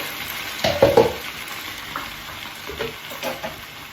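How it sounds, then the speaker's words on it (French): Vegetables sizzle in a hot pan with rosemary and herbes de Provence as about 100 ml of water goes in, a loud hissing burst near the start that fades to a softer, steady frying crackle with small stirring scrapes. "J'ajoute environ 100 ml d'eau"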